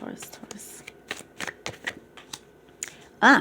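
Tarot cards are shuffled close up in soft, rapid riffles and slides. A voice talks intermittently over the shuffling.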